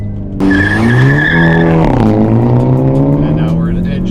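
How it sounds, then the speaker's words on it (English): A car launches hard using launch control in N Grin Shift mode, its engine rising loudly as the tires squeal with a sustained screech that climbs in pitch, close and dominant throughout. "So we're gonna activate launch control."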